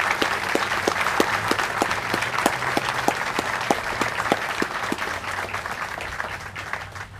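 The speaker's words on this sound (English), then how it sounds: "please join me in giving an applause to those that worked so hard to make this display" Steady audience applause at a military boot ceremony honoring 7,493 fallen troops, with the 101st Airborne Division, fills the whole stretch with dense clapping and a few sharper individual claps standing out throughout.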